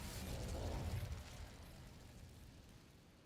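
Incendio fire spell cast in Hogwarts Legacy inside an Acromantula cave, a loud crackling, rumbling burst of flame that peaks early and then trails off into a steady roar.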